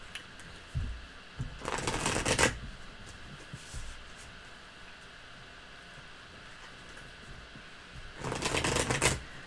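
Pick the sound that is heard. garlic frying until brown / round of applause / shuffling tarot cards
shuffling tarot cards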